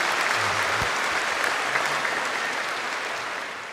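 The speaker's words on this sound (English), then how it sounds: "We're definitely in the applause phase" Applause from an audience at a live public dialogue event, thick and continuous clapping that holds steady, then begins to taper slightly at the close.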